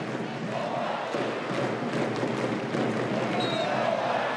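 A stadium crowd murmurs and roars steadily at a football World Cup qualifier between New Zealand's All Whites and Fiji. The noise stays continuous and fairly distant, with scattered shouts.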